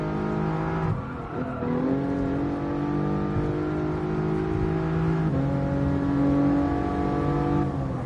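A race car engine in the GT Sport video game revs hard through its gears, with rising and falling tonal whines, a brief drop near the first second, then sustained high revving throughout.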